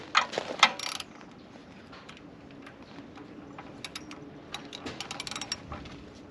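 Threaded rods being tightened on a compressor belt mount give off clustered ratcheting clicks, loudest in an opening burst and again near the end, over a low steady background hum.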